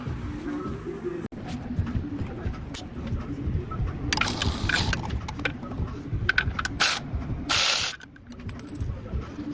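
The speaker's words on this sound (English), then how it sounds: "let's go ahead and ratchet all the ones that we've gotten loose off" A hand ratchet spins bolts off a transmission on a 2015 GMC/Chevy Sierra 1500 with a 6L80 transmission, giving bursts of fast clicking and metallic clatter close by in a garage, with some hissy knocks between.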